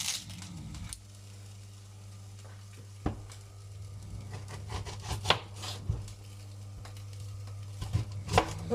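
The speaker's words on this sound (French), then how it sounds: "Donc là, je coupe mon oignon" A knife works through an onion on a cutting board during home preparation of a carrot salad and tart: irregular soft taps and scraping cuts over a steady low hum, fairly close and quiet, with no one talking.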